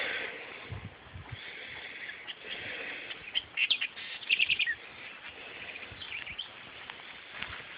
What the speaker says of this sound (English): these birds sound great